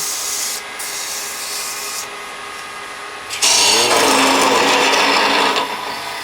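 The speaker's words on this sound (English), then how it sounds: "Now at this time I'll sand the inside of this lid." Sanding the inside of a turned wooden box lid, a steady abrasive rubbing hiss that pauses briefly, then grows louder and harsher midway as the spinning wood is pressed harder, with no talk.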